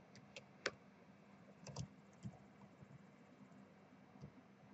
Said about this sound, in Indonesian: kita bisa mengetikkannya dengan cara seperti ini